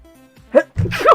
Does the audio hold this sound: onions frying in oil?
no